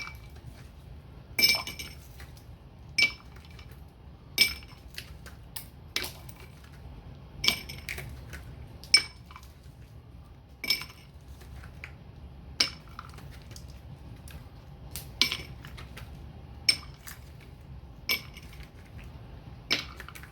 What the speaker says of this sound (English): I'm just going to put half the ice in each glass.